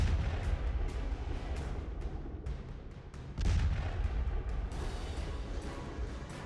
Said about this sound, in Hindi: रूसी सेना की तोपें दनादन आग के गोले उगल रही हैं।